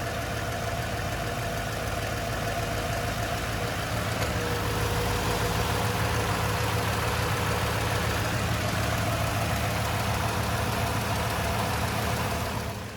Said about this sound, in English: we'll let the engine get up to temperature here